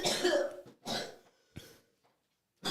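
A person gives three harsh, separate coughs spaced about a second apart, close and fairly quiet, with short silences between them.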